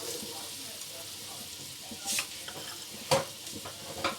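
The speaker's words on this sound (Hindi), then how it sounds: "अब हम इसमें सारी वेजिटेबल ऐड कर देंगे।" Chopped carrots, capsicum, peas, potatoes and cabbage get stirred into a frying pan for vegetable pulao: a soft, steady sizzle with a few scraping clatters of the spoon.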